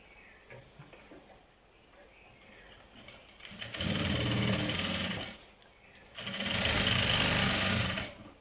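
A sewing machine stitches a kurti neckline in two loud, close bursts of rapid whirring, with quieter handling sounds before and between them.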